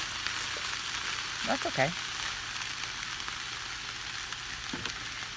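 Onion frying in a pan while being broken up with a utensil: a steady, soft sizzle runs throughout, with a voice speaking briefly over it.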